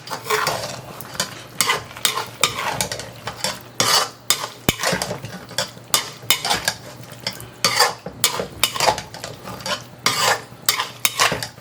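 A spoon scrapes and clatters rhythmically as potatoes and cauliflower are stirred in a sizzling pan, catering-style aloo gobi, with repeated loud strokes over a soft frying hiss and no talk.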